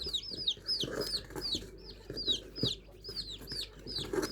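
Native country chickens clucking in a backyard flock, a steady series of short, close clucks repeating throughout with soft rustling beneath.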